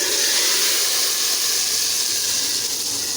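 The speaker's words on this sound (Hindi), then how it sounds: "अब इसमें हम तड़का लगा लेते हैं।" Hot oil tempering (tadka) for chana and mash dal, black split lentils with split chickpeas, sizzling steadily and loudly as a broad bright hiss that lasts throughout without pause.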